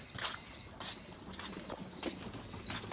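Erzurum white pigeons, purebred breeding birds in a coop, give soft low cooing calls amid brief chirps and rustling, with a steady faint background hiss and no talking.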